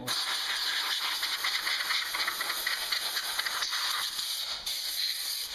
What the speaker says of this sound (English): just take your air blower from your compressor and just very